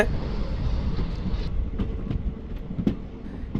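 Passenger train on the line toward Palani rumbles steadily along the tracks, with a continuous close roar and occasional wheel clacks, no voices.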